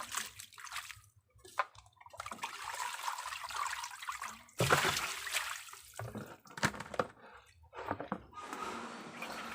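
Small wild-caught fish being rinsed by hand in several changes of water while preparing Lao fermented fish, with sloshing, trickling and splashing bursts close by, broken by short pauses and a few louder splashes.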